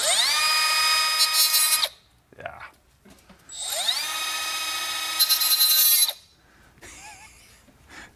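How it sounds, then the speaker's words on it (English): A small 3-inch cutoff wheel cuts metal on an E36 M3 front suspension job, giving two loud, high-pitched sustained whines of about two seconds each, separated by a short pause with brief clatter. "This little guy might do it for us. A little 3-inch cutoff."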